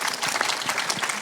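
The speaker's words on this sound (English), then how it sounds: "Round of applause for Bethany" An audience at an apprenticeship branding conference claps for a speaker, a dense, continuous burst of applause from a roomful of hands, close and lively, lasting just over a second.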